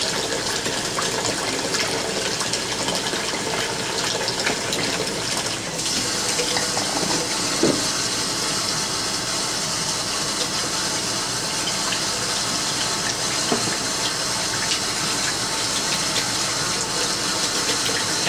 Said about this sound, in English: we have our blade here that I'm going to wash out a little bit